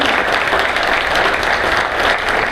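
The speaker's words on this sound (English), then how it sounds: "How about a round of applause for our state attorney candidates?" Audience applause for state attorney candidates at a political debate in Chipley, Florida, a loud, dense burst of clapping from a crowd held steady throughout.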